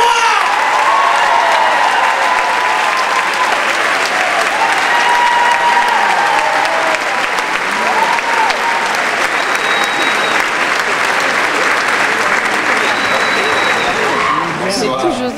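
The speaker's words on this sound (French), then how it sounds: "Je vous demande de commencer à l'applaudir tout de suite." A large audience at a televised French-language variety show applauds a guest loudly and continuously, with cheers in the crowd and a voice speaking over the roar.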